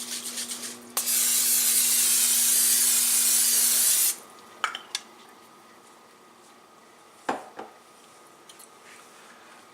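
Pam cooking spray hissing into a pan in one steady burst of about three seconds, close and loud, followed by a few light knocks and clatters from handling the can and pan.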